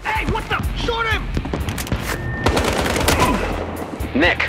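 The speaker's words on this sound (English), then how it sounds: "Gunshots, let's go." Rapid bursts of automatic gunfire and single shots crack through a Battlefield Hardline shootout, loud and close, mixed with shouting voices and echoing impacts.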